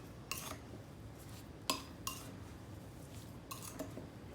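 Sugar-sprinkled strawberries for an upside-down cake being stirred in a dish, heard as a few soft, scattered clinks and taps of a utensil against the dish over a quiet room.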